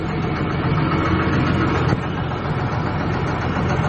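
The excavator transformation in the video game Yoshi's Island produces a loud, steady engine drone that rumbles continuously, with a brief change midway.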